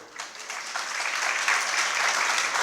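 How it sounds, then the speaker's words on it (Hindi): An audience at a Jain sermon breaks into sustained applause, a dense, loud wash of clapping that builds slightly and holds steady without speech over it. "केवल ताली ही बजाते हो।"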